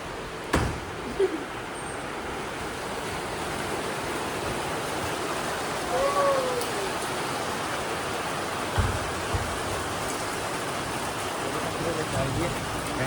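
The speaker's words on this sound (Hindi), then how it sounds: "बारिश आ चुकी, चल बाहर चलो दिखाते" Steady rain falls outdoors with hail coming down in the same storm, a dense continuous wash of noise, with a few faint knocks and a brief high tone partway through.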